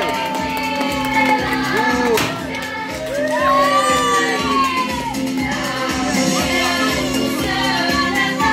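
At a home party for a five-year-old's birthday, right after the candle is blown out, children and adults cheer and shout together. The joyful whoops and yells stay loud and continuous for several seconds.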